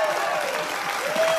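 A live audience in France bursts into a short, dense round of applause and cheering during a comedy promo appearance, loud and close throughout.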